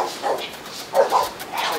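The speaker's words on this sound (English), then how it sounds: "That's a real super exotic dog." A big seven-month-old puppy lets out a few short, close barks and yips in quick succession, with a faint hint of voices nearby.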